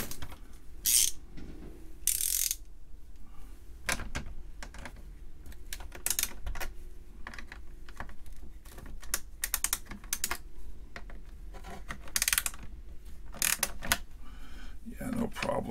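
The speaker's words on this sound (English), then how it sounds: "Switch the ratchet over." A ratchet wrench clicks through repeated bursts while loosening fasteners on a 1971 Tektronix Scientist 909 calculator, close and fairly loud, with short pauses between the ratcheting runs.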